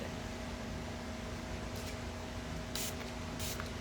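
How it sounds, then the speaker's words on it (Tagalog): A cosmetic face spray bottle gives three short hissing spritzes, spaced out over a steady low background hum, close to the listener with no speech. "Mag-spray nga ako."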